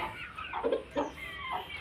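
A rooster gives a few soft, close clucks in quick succession over a faint background hum, with no talking.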